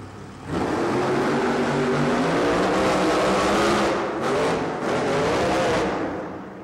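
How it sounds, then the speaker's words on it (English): Grave Digger, a rear-engined monster truck, roars loudly through a qualifying run at a monster truck event. The engine note is sustained and rising, drops briefly, then surges again before tailing off. "The Gravedigger, its rear engine."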